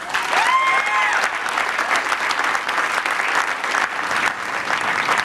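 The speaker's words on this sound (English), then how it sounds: "that's Arnold Schwarzenegger, the governor of California, applauding the passage of a California ballot initiative" A large crowd applauds steadily and loudly at an election night event celebrating the passage of a California ballot initiative, with some cheering mixed into the continuous clapping.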